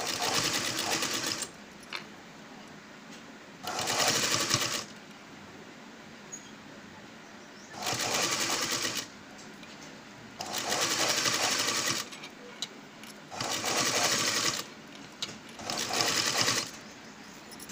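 Stitching lace onto a pot neck blouse, a sewing machine whirs in several loud bursts of a few seconds each, separated by quieter pauses with faint handling noise.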